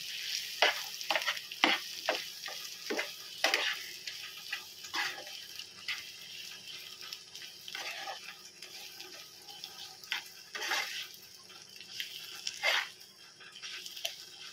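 Eggs being stirred into masala in a pan for egg curry, with a steady sizzle and repeated spoon scrapes and taps against the metal, close and continuous with no voices.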